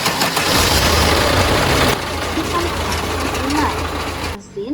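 A heavy equipment diesel engine cranking and catching after a battery jump, then running with a rough, uneven idle, loud and close, with a voice speaking over it.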